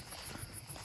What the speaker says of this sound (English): Bunch of freaking crickets and frogs.